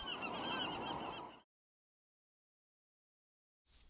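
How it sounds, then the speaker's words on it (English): Seabirds including pelicans, Xantus's murrelets and seagulls call off Santa Barbara Island, a dense, loud chorus of honking cries for over a second before cutting to silence, with a brief burst returning at the end. "it stirred up all the birds in the area"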